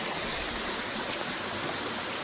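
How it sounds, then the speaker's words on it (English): A loud, steady roar of rushing water, dense and unbroken throughout, like a waterfall heard from close range, on the Appalachian Trail near Franconia Ridge. "I don't know if you guys can hear me because that waterfall is pretty loud."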